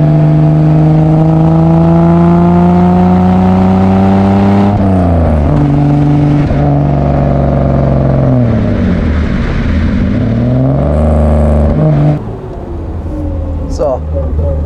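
A 1954 Mercedes 300 SL Gullwing engine runs loud and close, its strong harmonic drone rising and falling through revs, with a voice talking over it.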